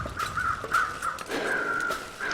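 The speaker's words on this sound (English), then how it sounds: "it's the crows flying out of the snow again" Crows caw repeatedly in a snowy video game scene, harsh calls coming in a steady series close by with flapping bursts of them taking off, no talking over them.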